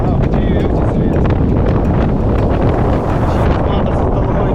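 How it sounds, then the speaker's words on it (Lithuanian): Strong wind on the coastal trail at Ponta de São Lourenço, Madeira, batters the microphone with loud, continuous low rumbling and buffeting, with faint voices beneath the roar. "Wow, čia jau jaučiasi vėjas."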